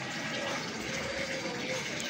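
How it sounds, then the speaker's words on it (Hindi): Water steadily running and filling a pool set up for ducks and ducklings, a continuous close hiss and gush with no pauses. "पानी की आवाज़ आ रही है"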